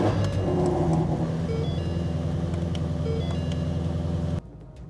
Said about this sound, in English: And now to my favorite part, an assisted cold start.